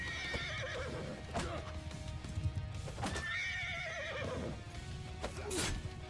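Horses neigh repeatedly during a medieval video game battle, several whinnies rising over a dense bed of battle noise and hoofbeats, with no talk.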